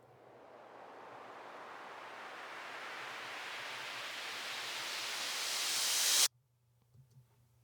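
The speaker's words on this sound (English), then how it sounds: "And we just got a sweep here, a Cashmere sample, if you're on Splice, and then a reverse cymbal here" A layered production effect in an indie-rock song: a rising noise sweep, a Cashmere sample and a reverse cymbal swell steadily brighter and louder for about six seconds, then cut off abruptly into near-silence.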